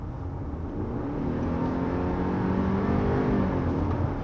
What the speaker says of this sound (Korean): 자, 지금도 RPM 띄워볼게요.